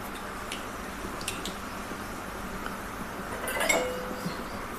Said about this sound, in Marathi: मोहरी एक तडतडत आहे.